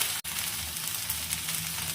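Okra (bhindi) frying in a pan for a methi bhindi dish, a loud, close, continuous sizzle and crackle with a brief dropout near the start.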